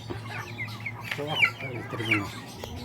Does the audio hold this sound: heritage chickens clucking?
yes